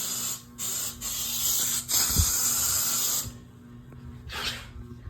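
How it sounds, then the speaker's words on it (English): Off insect repellent sprayed at bugs indoors: several loud hissing aerosol bursts of varying length, close by, with short pauses between them and no talking. "Just spray it with off, I guess."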